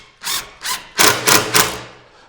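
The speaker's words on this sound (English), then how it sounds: "Your Western red cedar is soft enough that your screw just goes right in." A screw driven into soft Western red cedar while building a garden wall, the driver whirring in five quick, close bursts that grow longer and denser toward the end.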